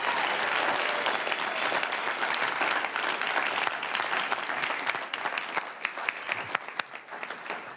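An audience at a media and public affairs storytelling festival gives a sustained round of applause, dense steady clapping that thins toward the end with a few louder individual claps.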